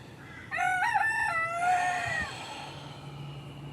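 A rooster crows once, a loud, drawn-out cock-a-doodle-doo of about two seconds, fairly close, with no talking around it.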